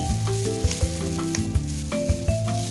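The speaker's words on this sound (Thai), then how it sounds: "และจะคลุกผสมให้เข้ากันเลยนะคะ" A topping mixed into taro pieces for a sweet taro dessert, with soft, repeated stirring and scraping knocks heard under prominent background music.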